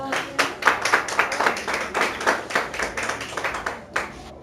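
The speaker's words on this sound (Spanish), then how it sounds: "¿Cuánto le dan la gloria a Cristo con un aplauso?" A church congregation gives applause during a sermon, with a fairly sparse group clapping in uneven bursts, close and moderately loud.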